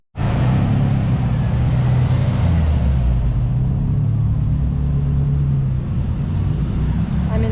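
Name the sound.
motorcycle riding on a road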